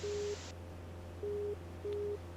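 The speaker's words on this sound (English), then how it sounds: "that you're hearing right there is the ILS frequency" Steady tones of an ILS localizer identifier heard in the X-Plane flight simulator, three evenly spaced beeps over a constant low hum, with a brief higher tone at the start.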